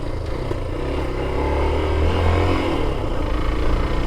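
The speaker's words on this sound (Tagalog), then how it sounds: "Timing chain. Naglambing na naman yung aking motor." A Suzuki SZR 150 motorcycle engine with timing chain trouble runs close by, a continuous rough mid-pitched drone that rises a little in the middle with some rattle, and no one speaks over it.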